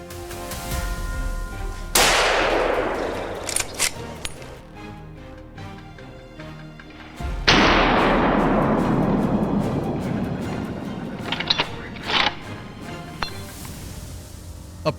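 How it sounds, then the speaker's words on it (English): Two loud sharp gunshot blasts while hunting wild boar in a forest, each trailing into a long rolling echo that fades slowly across open space, with a few faint clicks in between. "The gunshot echoes, sending the herd scattering in panic"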